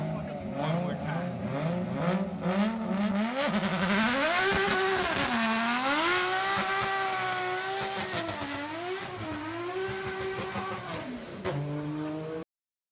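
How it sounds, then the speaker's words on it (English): A car doing a burnout, heard as a played recording: a loud engine revving up and down in long wavering sweeps with tire squeal, sustained for about twelve seconds before cutting off abruptly. "we just like talked them into getting it off the trailer and doing a burnout"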